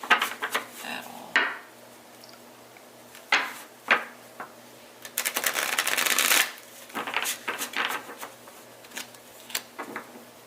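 Tarot cards shuffled by hand nearby in repeated riffling bursts with short pauses, one longer shuffle in the middle, no talk.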